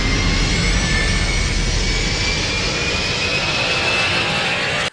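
An aircraft landing at an airfield, its engine roar loud and steady throughout with a faint rising whine, cutting off abruptly at the end.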